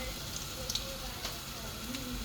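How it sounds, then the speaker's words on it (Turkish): Zucchini fritters (mücver) frying in hot oil give a soft, continuous sizzle and crackle, faint and steady throughout. "Şimdi sıcak yağda pişireceğiz."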